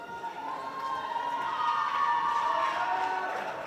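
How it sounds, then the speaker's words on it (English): Supporters at a girls' U18 rugby sevens match in Hong Kong cheer and shout from a distance, a steady swelling crowd roar with high-pitched voices rising above it. "you can hear we got a nice good crowd out here"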